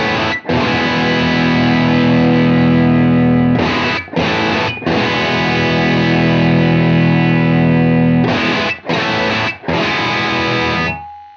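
A distorted electric guitar runs through a UAD Lion '68 plugin emulating a vintage Marshall brown sound, playing loud sustained crunchy chords with a few brief stops and restrings, close and upfront with no talk.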